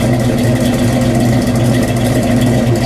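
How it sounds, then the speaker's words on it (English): A 1971 Buick GS Stage 1 455 cubic-inch V8 idles loud and steady, with a deep, rumbling low end and a constant throb, close by and without pauses. "this is what a muscle car is supposed to sound like."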